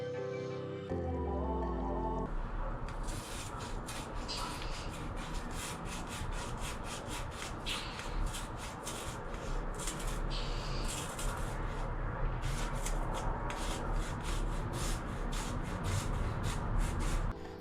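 An OmniShaver electric head shaver runs against a scalp. A short whir at the start gives way to a continuous close buzzing rasp, broken by rhythmic scraping strokes throughout, with no voices.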